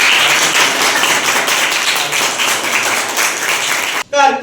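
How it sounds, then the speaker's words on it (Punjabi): An audience at a parents' workshop on Punjab's education drive claps loudly in a fast, dense patter that cuts off abruptly, with a voice speaking just after. "ਸਾਰੇ ਤਾੜੀ ਖੂਬ ਵਜਾਓ"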